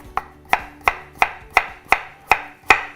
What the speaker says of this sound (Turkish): Patatesi yine aynı şekilde kesebilirsiniz